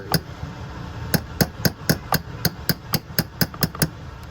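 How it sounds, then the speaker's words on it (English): A hammer taps an Allen key into a stuck screw on a Husqvarna 51/55 chainsaw cylinder, over and over in a quick, steady rhythm, about a dozen sharp ringing metal strikes close by, with no voices. "I'm going to take a hammer"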